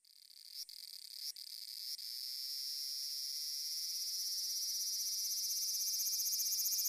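The most common cicada of Kyushu, Japan, sings a high, shrill, continuous buzz that opens with a few brief stutters and then swells into a steady, slightly pulsing drone, fairly faint and heard alone.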